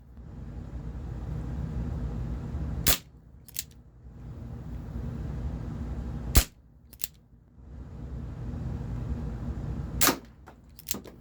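Barra 1858 CO2 BB revolver fired outdoors, three sharp, loud cracks spaced several seconds apart, each followed by a fainter secondary snap, over quiet background hiss.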